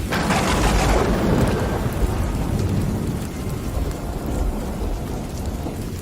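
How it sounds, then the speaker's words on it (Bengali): A thunderstorm in a dark village forest: heavy rain roars continuously with deep rolling thunder, loudest at the start and easing slightly but never stopping. "আর শুধু ঝড় বৃষ্টির মধ্যে বজ্রপাতের তীব্র শব্দ শোনা যাচ্ছিল।"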